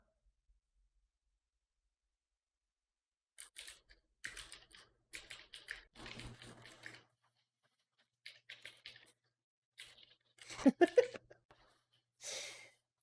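Typing on a computer keyboard in a quiet room, several short bursts of close, light key clicks separated by pauses.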